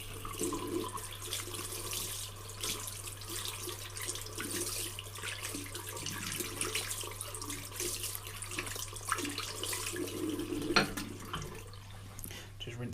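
Warm water runs steadily from a tap into a sink while a nitro engine air filter is rinsed, a continuous splashing hiss with occasional small clatters, fairly close.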